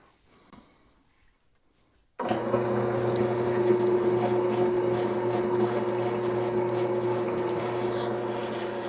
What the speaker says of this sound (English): Alright, let's drill this out.